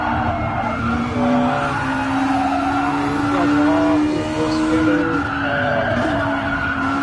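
Racing cars in a racing video game roar continuously with engine whine and tire skids rising and falling, loud and close, with no talking over it.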